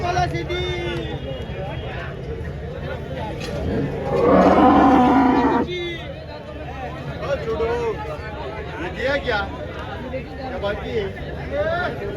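Cows at a cattle market moo loudly and close by, with one long drawn-out moo in the middle and shorter calls around it, over a constant babble of crowd chatter and nearby talking.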